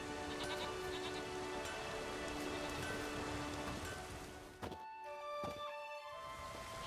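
Steady rain in the video game The Witcher 3: Wild Hunt patters and hisses continuously, a dense wash of falling drops with a brief dip near the end.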